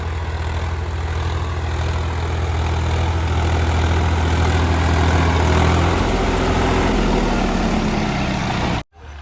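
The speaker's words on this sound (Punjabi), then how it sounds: "ਚੱਲਦਾ ਟਰੈਕਟਰ" A tractor engine runs steadily at close range in a field being prepared for potatoes, with a deep, rumbling drone, its pitch shifting slightly partway through before cutting off abruptly near the end.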